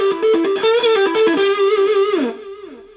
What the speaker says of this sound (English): you can turn the guitar on and have your tones straight from the guitar itself